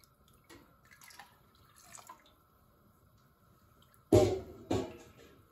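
Hot water pours into a pot of cheese curds being warmed for a cumin-spiced Gouda, coming as two short, loud splashing bursts near the end after a quiet stretch.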